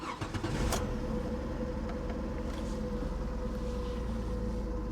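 A car engine idles steadily after being started, a constant close-up rumble and hum with a brief louder burst at the start, no talking.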